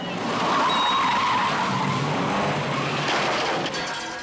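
A car chase from a feature film, with tires skidding in a long screeching slide over roaring engine noise that stays loud and close throughout.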